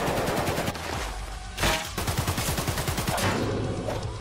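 Rapid automatic gunfire from an SMG4 Mario animation rattles in dense bursts. The rat-a-tat pulses sit under loud, cartoonish effects and other noise.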